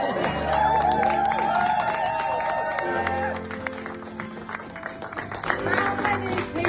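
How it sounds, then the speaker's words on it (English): An audience claps and cheers at a political gathering, a dense wash of applause that swells loudly and then thins out, with voices and shouts mixed into the crowd noise. "give yourselves a round of applause"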